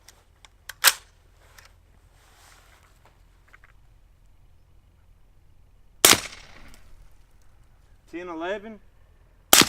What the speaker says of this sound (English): we'll shoot 2 more through the crony